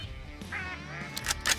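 A mallard greenhead drake gives brief, moderately loud quacks as it comes in to land outdoors, with a couple of harsher calls near the end.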